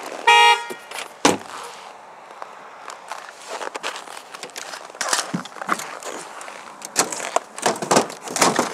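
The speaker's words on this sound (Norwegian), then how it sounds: "Hvorfor tuter bilen min?" A parked car's horn toots on its own in short irregular bursts near the coast, mixed with crackling and footsteps on rough ground.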